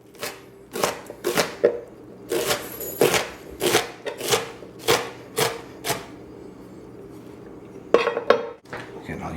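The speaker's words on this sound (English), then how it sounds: "we're going to chop this up" A serrated knife chops a tomato on a board in a string of quick, close knocks and clicks, with a pause before a last few cuts.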